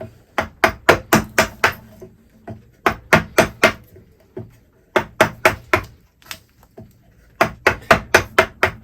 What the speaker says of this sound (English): as we get to the bottom I've turned the chisel basically so that I can lever off that bevel